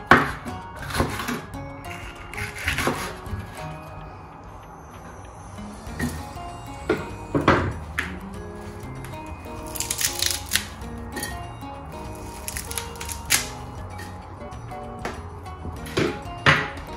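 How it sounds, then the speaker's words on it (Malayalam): Onions and green chillies being cut for a Ramadan iftar recipe, giving scattered knife taps and chopping clicks at close range over a faint kitchen background, with no talking. "ഇനി നമുക്കിതൊക്കെ ഒന്ന് കട്ട് ചെയ്തിട്ട് മിക്സിയുടെ ജാറിലോട്ടൊക്കെ ഇട്ട് കൊടുക്കാം."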